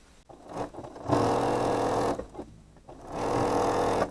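A sewing machine runs the last seam on the wing pieces of a bat quilt block, in two long steady bursts of close, even stitching separated by a brief pause.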